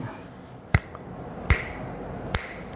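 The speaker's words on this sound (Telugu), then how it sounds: "చిటికేసి" Three sharp finger snaps, close and crisp, spaced unevenly apart over a quiet background with faint room noise between them.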